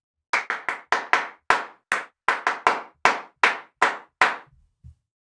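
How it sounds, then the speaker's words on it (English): A series of binaural clap samples from the Clap Pack Deluxe sound library, about a dozen sharp, dry, close claps in an uneven rhythm with clean silence between them. "Binaural claps."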